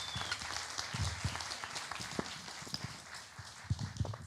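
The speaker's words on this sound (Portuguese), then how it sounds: "Uma salva de palmas, por favor" An audience applauds at a stage event, a faint, steady patter of many hands clapping throughout.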